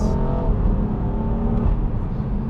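A BMW M3 Touring engine accelerates with a deep, throaty drone, heard steadily from inside the car.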